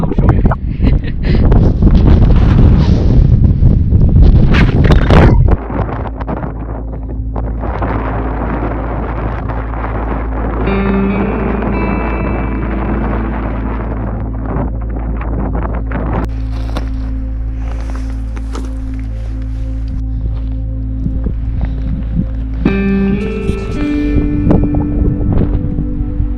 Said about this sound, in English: Very windy. Don't know how much of this you'll hear.